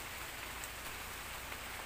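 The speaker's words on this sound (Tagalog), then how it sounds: "Ano, nakasilong ka dyan? Umuulan" Steady, dense rainfall hissing on surfaces, with faint scattered drops, constant and unbroken with no voices.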